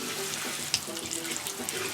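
Water running from a kitchen tap while hands are rinsed, a steady close splashing hiss with a small clink partway through, lasting under two seconds.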